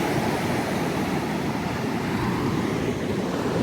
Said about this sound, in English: And this is the beach side of the hotel. Lots of pretty waves.